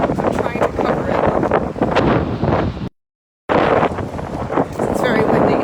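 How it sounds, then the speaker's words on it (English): Strong gusts of wind batter an outdoor microphone with loud, rumbling buffeting that cuts out briefly to near silence midway before roaring back just as hard. "It's very windy."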